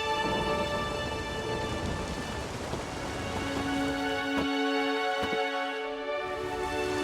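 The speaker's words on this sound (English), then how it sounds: "There's no point standing here in the rain." Steady rain falls in The Witcher 3: Wild Hunt, a continuous hiss with scattered drops, joined partway through by a sustained musical drone and a couple of sharp thuds.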